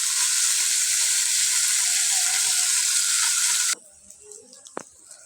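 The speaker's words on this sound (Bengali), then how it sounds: "ঘি আর একটু দিয়েছি, একটু ভাজা ভাজা করে নেব।" Broiler chicken rubbed with salt and turmeric sizzles loudly in ghee for several seconds, then the frying cuts off abruptly, leaving quiet clinks and small knocks.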